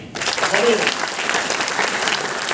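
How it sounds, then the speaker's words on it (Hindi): An audience at a motivational talk breaks into loud, sustained applause, a dense roar of clapping that starts abruptly and stays strong and even throughout, with a voice briefly audible within it. "एक बार जोरदार तालियां।"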